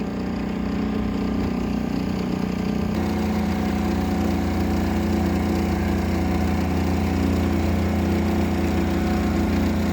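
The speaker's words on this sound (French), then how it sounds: "Et oui, du moteur quand il n'y a pas de vent." A sailboat's inboard motor runs steadily under way in calm, windless conditions, a continuous loud mid-low engine drone with a constant hum throughout and no talk.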